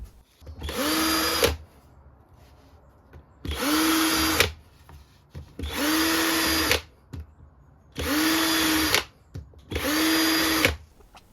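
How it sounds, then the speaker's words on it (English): A power drill boring holes in a cutout piece for a sandblasting cabinet vent, running in five loud sustained bursts of a few seconds each, separated by short quiet pauses. "I then drilled some holes in the cutout piece which will form the vent."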